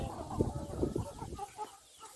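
Several hens cluck softly nearby in short, irregular bursts, fairly quiet and close.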